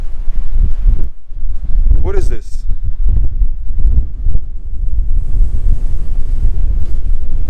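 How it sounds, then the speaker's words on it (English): Strong wind in the Mojave Desert buffets the microphone in a constant heavy roar, and a person speaks briefly beneath the gusts. "It's so windy outside."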